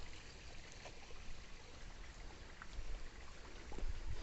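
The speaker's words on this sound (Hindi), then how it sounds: "इसी टंकी के नीचे पानी की आवाज़ आ रही है।" Water flows and trickles beneath a water tank at a spring, a soft, steady outdoor rush with faint droplet-like patter throughout, moderately quiet and with no voices.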